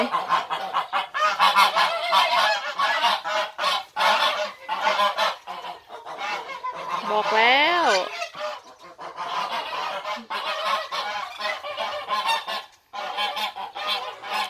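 Geese honk loudly and repeatedly in a noisy, chaotic scuffle with a horse, with one long rising honking call standing out partway through.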